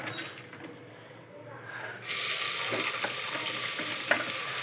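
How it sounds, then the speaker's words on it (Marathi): Fresh chopped spinach tipped into two spoonfuls of hot oil in a pan for spinach dal, bursting into a loud, steady sizzle that holds on after the leaves drop in, with faint stirring clicks and no talk. "त्यासाठी मी 2 चमचे तेल गरम करायला ठेवलेलं आहे। त्यात टाकते मी पालक।"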